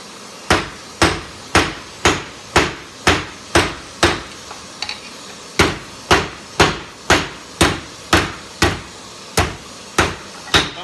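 Hand hammer forging hot steel into a knife on an anvil, a steady series of about twenty loud, sharp ringing blows at an even rhythm, each with a short metallic decay, with no talking over them.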